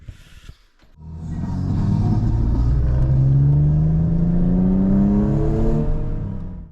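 A Volkswagen MK4 GTI on the Tail of the Dragon mountain road, its engine rising from a low rumble into a loud, sustained rev climbing through the gears, close and unaccompanied by voices.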